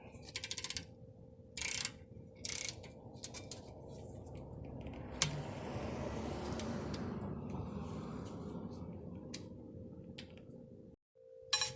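Brake bolts on a 2003 BMW Z4 2.5i tightened to 11 newton meters during a front brake job, close metallic ratcheting and clicking with a few sharp taps and a brief rattling run, no talk.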